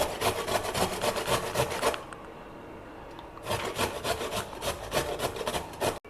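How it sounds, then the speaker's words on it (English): Fresh bitter gourd rubbed against a grater with its peel on, making steady rapid rasping strokes that pause briefly midway and then resume. The scraping is close and continuous, with no talking. "wash one bitter gourd and grate it along with the peel like this."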